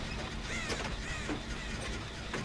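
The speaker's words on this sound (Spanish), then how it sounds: "Maldito cuervo." A crow caws in the horror game Dead by Daylight, a few short harsh calls over a steady mechanical ambient hum, with no talking.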